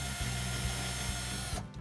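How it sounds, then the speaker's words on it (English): A Switchdriver 20V cordless drill/driver bores a pilot hole into a door frame, its steady motor whine running close and continuous, with a few low rhythmic knocks as the bit bites into the wood. "Drill the pilot hole."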